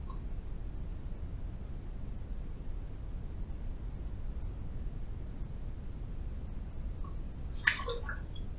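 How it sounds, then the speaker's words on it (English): A Feather F3 razor is rinsed under running water after a shaving pass, giving a steady, soft hiss of flowing water with a brief clink near the end. "All right, first pass done. Let's rinse."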